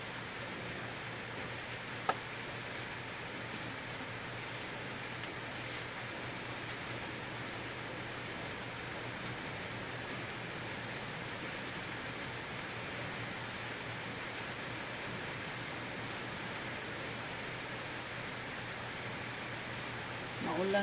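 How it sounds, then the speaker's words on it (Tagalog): Steady rain falls early on a Sunday morning, a soft continuous hiss of drops on surfaces that stays even throughout, with a single faint tap near the start. "It's rainy Sunday."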